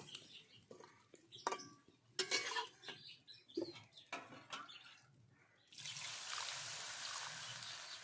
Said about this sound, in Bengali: তো আমি জল দিয়ে দিলাম। তো এবার আমি কিছুক্ষণ নাড়াচাড়া করে রান্না করে নেব।